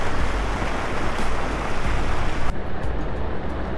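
Fast water pours loudly and steadily through the stone mill lade at Preston Mill, a broad continuous rush with a slight drop in level near the end.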